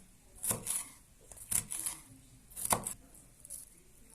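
Three sharp knife chops through a red bell pepper on a cutting board, spaced about a second apart with a few lighter taps between, close and fairly quiet.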